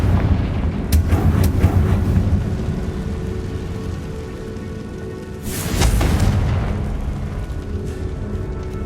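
Confringo blasting curse from Hogwarts Legacy, heard as a loud booming blast near the start and a second heavy explosive burst around the middle over a low rumbling game background, no talking.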